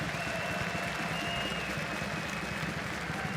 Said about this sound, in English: Guys, a big round of applause and so much respect for Apex.